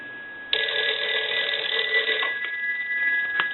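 A Western Electric 302 rotary dial telephone bell rings with a sharp, loud metallic trill for about two seconds, followed by two short clinks of the bell.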